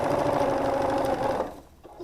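Sewing machine stitching a seam on a quilt block, running in a steady fast close whir that slows and stops near the end.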